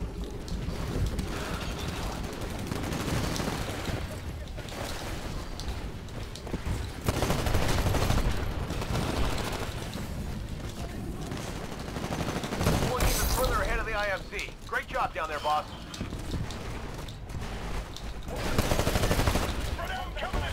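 Carbine gunfire in Titanfall on an Attrition match on the Fracture map, with rapid bursts of shots among explosions and battle noise, dense and loud, while someone talks over the fighting.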